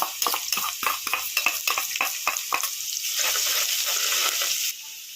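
Ginger hits hot oil in a pan for a Kerala-style karimeen fish molly, with a bright close sizzle and quick stirring scrapes that settle into steady frying.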